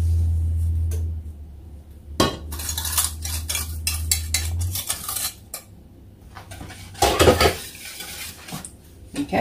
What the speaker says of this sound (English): We're going to continue to whisk until this boils and it gets thick.